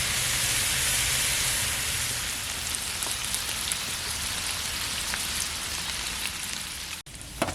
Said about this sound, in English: while the bacon's cooking and we have this grease on the skillet